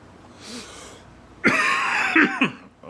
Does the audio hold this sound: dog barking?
no